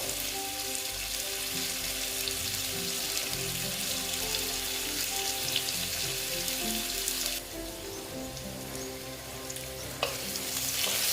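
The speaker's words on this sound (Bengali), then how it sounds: "আমি আলুটা খুব ভালো মতো ভেজে নেব আলু একটু আস্তে আস্তে ভাজব" Potatoes fry slowly in oil in a pan for a sweet pumpkin dish, giving a steady, even sizzle with occasional stirring, close and continuous with no talking.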